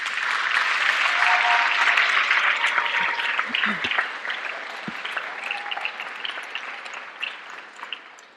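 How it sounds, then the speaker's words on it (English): High school graduation audience gives a round of applause to parents and guardians, dense clapping from a large crowd that stays strong, then thins and tapers toward the end. "Graduates, please give a round of applause to your parents and guardians"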